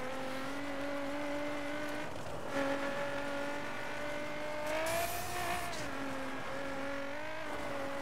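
Car engine in the racing video game The Crew, droning steadily with a harmonic tone that swells and dips as the revs climb and fall, and a brief tire squeal around the middle.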